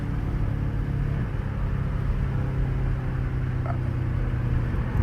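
The engine of a BMW M5 Competition drones as a steady low rumble at cruising speed from inside the car, with no distinct exhaust pops standing out above the hum.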